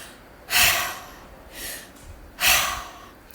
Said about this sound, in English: a 5-minute session of psychological breathing can be very impactful